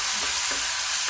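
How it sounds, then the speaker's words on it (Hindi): Ginger garlic paste sizzling in hot oil in a pan: a dense, steady hiss of frying with soft stirring pulses, close and continuous, with no talk. "अब मैं इसमें डालूंगी 1 चम्मच अदरक लहसुन का पेस्ट।"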